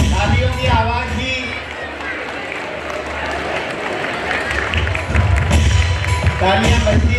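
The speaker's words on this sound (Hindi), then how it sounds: "तालियां बजती रहे।" Audience applause fills a community talent-felicitation ceremony, a dense, steady wash of clapping that runs the whole stretch and swells louder toward the end, with no voices over it.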